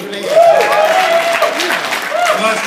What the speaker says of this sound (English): Let's get a big round of applause for Tiffany.